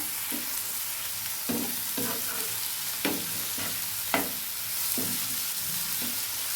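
Chopped tomato and onion being stirred in a pan, with a steady soft sizzle beneath repeated scraping strokes of a spoon, roughly one every second, close by and without speech.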